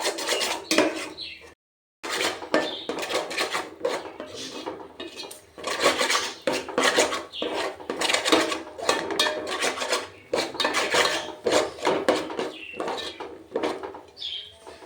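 A spoon scraping and clinking continuously against a pan while date payasam is stirred, in a busy, rhythmic stream of close metallic scrapes with one short pause near the start.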